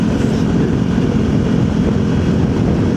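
A VOGE 300 Rally motorcycle engine revving at speed around 5,500 RPM, a loud, steady buzzy drone mixed with rushing wind, with no breaks.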